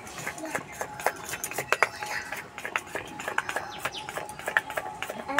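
Semolina and egg batter for pitha is stirred in a bowl: a steady run of quick clinks and scrapes of a utensil against the dish, close and continuous.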